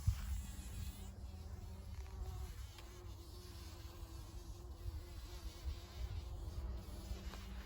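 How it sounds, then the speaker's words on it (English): Bees buzz inside closed flowers in an autumn garden, a continuous low, amplified hum that stays close and steady, alone with no talking. "bee had gone inside one of the closed flowers and the buzz was just like amplified"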